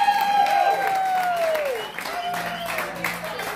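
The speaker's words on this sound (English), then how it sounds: "Everybody give her a round of applause" Audience applause and cheering at a 50th birthday roast, a steady wash of clapping with a rising whistle-like tone near the start, fading slightly toward the end with voices mixed in.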